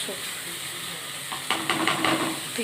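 Poppy seed and dried red chili paste hitting hot oil in a pan, a steady sizzle with a brief stirring scrape and a livelier crackle partway through, close and fairly soft.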